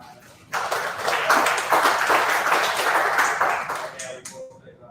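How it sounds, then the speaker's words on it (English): A small audience at a tech meetup applauds the sponsors. Quick scattered clapping breaks out suddenly, holds for a few seconds and tapers off into quiet. "So a big round of applause."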